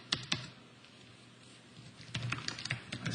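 Computer keyboard typing in two short spells, a couple of sharp keystrokes first, then a quiet gap, then a faster run of clicks near the end.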